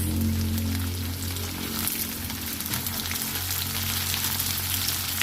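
Tomatoes sizzle as they go into a hot frying pan for ginataang talong with dried fish, a steady crackling fry over a low hum, no speech.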